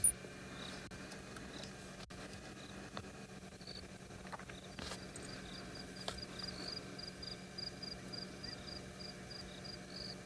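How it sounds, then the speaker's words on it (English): Crickets chirp on a still South African evening beside a calm dam during a safari, their faint, regular pulsing trills steady over a quiet background hum. "A lot of different cricket species out as well."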